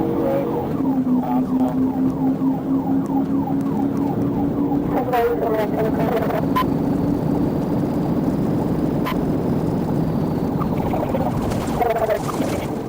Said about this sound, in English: activating their sirens